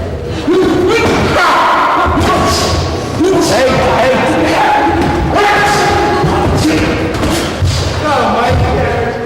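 Body punches thud in a 1983 boxing sparring session featuring a young Mike Tyson, landing as repeated dull blows beneath a coach's loud, continuous shouting.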